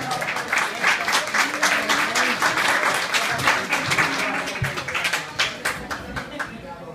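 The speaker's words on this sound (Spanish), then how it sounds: "un fuerte aplauso para ella" Audience applause for a woman at a stage event in the Dominican Republic, with dense clapping that keeps going, alongside voices and crowd noise.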